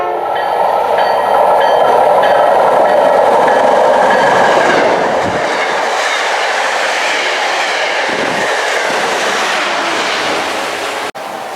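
MBTA commuter rail train with Keolis 818 and a rebuilt Kawasaki CTC4R coach passes close by, a loud sustained rumble with rail clatter that eases toward the end.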